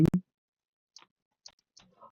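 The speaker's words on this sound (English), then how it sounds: "I've been secretly typing this whole time." A few faint, sparse clicks from a computer keyboard are spaced apart after a brief louder burst at the start, each tap short and quiet.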